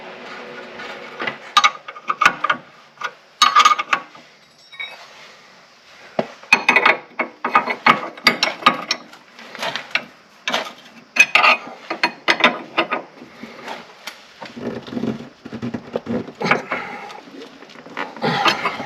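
Someone tightens the nut on a new tie rod during a tie rod replacement on a Mitsubishi Outlander Sport, producing close, irregular metallic clicks, ratcheting and clattering bursts that are fairly loud, with brief pauses between.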